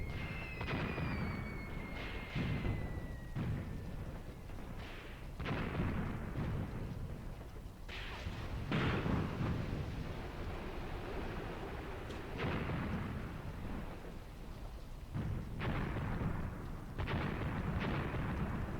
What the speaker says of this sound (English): my heavy weapons are firing at their Overwatch positions